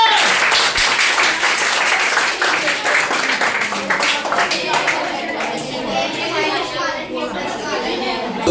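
Applause during a quiz game in a group tuition class: a burst of clapping from a group of children, fading into chatter and kids' voices.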